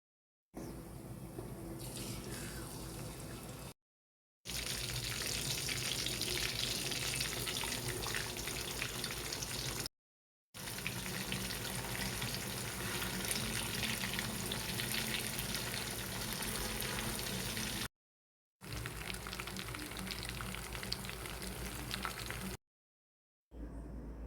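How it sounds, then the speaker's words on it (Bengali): Marinated tilapia fish fry in hot oil with a loud, continuous, crackling sizzle, broken by several short silent cuts between stretches. "তারপরে আমি তেলে ভাজবো"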